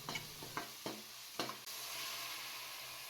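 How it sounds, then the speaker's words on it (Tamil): Tomato and curry leaves sauté in hot oil for a village-style country chicken curry, with several quick stirring scrapes of a spoon in the pan, then a steady close sizzle; no talking. "அந்த தக்காளியும் எண்ணெயில் போட்டு சேர்த்து நல்லா வதக்கிடலாம்"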